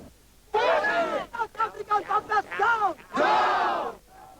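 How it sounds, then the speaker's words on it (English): A large crowd gathered outside a court behind heavy security chants in loud rhythmic unison, a sustained shout breaking into short punchy syllables and then swelling again before stopping abruptly. "The crowd outside the court took up the controversial chant of "Kill the Boer, kill the farmer,""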